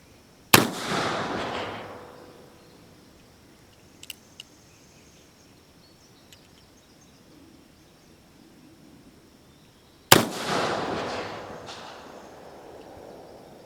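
Two loud, sharp gunshots from a Colt 1860 black powder revolver firing paper cartridges outdoors, spaced about ten seconds apart, each trailing off in a long echo, with faint clicks of the gun being handled between them.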